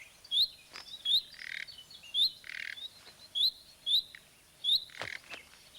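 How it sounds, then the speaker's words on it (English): A male nightingale repeats loud, sharp alarm calls at a long-eared owl perched near its nest, about seven evenly spaced bursts, each a bright whistle with a rougher chattering edge, close and clear over quiet natural ambience. "It's a male nightingale"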